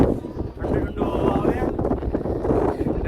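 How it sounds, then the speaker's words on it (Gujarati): Strong wind on Girnar mountain roars across the microphone in a steady, loud rush while someone talks over it. "પવન ભાઈ ફૂલ આવે"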